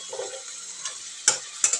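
Cooked mutton pieces dropped into oil-separated masala in a pan for sukha mutton, with a soft sizzle and a few short stirring clatters and scrapes near the end.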